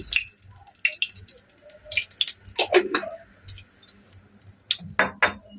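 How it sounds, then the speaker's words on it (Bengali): Cooking oil is poured into a pan while a boal fish curry is being made, giving close, irregular dripping and splashing ticks and small splatters in short bursts, with quiet gaps between them. "আর একটু দিয়ে দেবো তেল"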